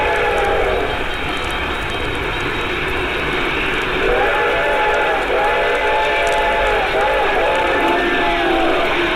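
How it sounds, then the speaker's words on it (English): An approaching train sounds its whistle in long, wavering blasts over a steady rumbling background, the tones fading and returning close and loud, with a voice speaking over it. "I could hear its bell ringing and the cry of its whistle."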